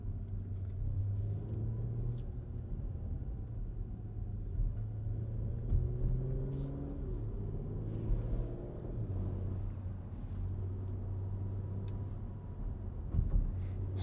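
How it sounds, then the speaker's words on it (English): Engine and sport exhaust of a 2023 Porsche Macan S with a 7-speed PDK, heard from inside while driving: a steady low drone with gentle rises in pitch as it pulls through the gears, moderately loud and continuous. "Sport exhaust is nice. You know, nothing crazy, but it sounds good."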